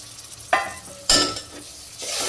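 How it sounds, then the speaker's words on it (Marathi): Masala paste of coconut, ginger, garlic and coriander frying in oil, stirred with a utensil: two sharp scraping bursts of sizzle over a soft steady crackle, close by. "मी सगळ्यात आधी तर हे मसाले चांगलं तळून घेते तेलामध्ये"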